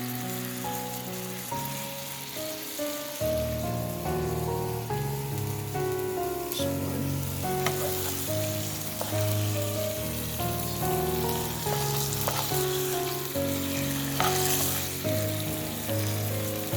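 Ribeye steaks searing in an oiled pan with garlic seasoning, a steady, loud sizzle and crackle running the whole time under soft background music.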